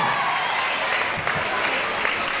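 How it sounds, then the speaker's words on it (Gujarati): Audience applause at a Gujarati community stage event with dance performances and prize announcements, a steady broad wash of clapping sustained throughout at moderate level, with no voice over it. "જોરદાર તાળીઓથી વધાવી લઈએ એમને."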